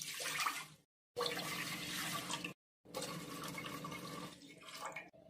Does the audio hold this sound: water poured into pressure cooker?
yes